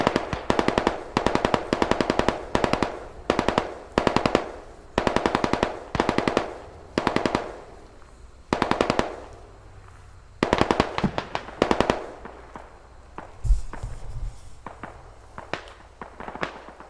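Rapid bursts of gunfire crackle in a video game squad battle, sniper and handgun shots mixed with automatic fire, loud and close in repeated clusters with short gaps, thinning toward the end.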